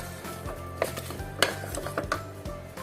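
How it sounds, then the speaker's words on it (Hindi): Potatoes frying with spices in a pan for an aloo palak dish, heard as quiet, irregular clinks and scrapes of a spoon stirring against the pan, with only a faint sizzle underneath. "आलू जो है वो डालने के बाद इसको आपने भूनना है"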